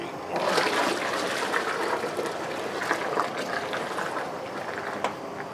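Water pours steadily into a brewing vessel for a homebrew batch measured toward eight gallons, a continuous rushing splash at moderate level with no voices.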